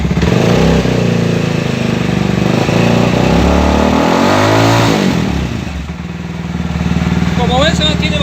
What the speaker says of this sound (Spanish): Vamos a acelerar un poquito.